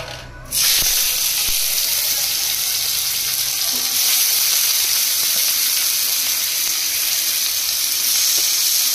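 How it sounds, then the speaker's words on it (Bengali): Chopped onion drops into hot oil and a loud, steady sizzle bursts up right away, then holds as a dense, close frying hiss with faint scraping underneath. "তেল গরম হয়ে গেছে, এখন পেঁয়াজটা দিয়ে দেবো, পেঁয়াজ কুচিটা দিয়ে দেবো"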